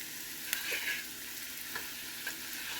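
Onions fry in a pan with a steady, quiet sizzle, broken by a few soft scrapes and clinks as they are stirred.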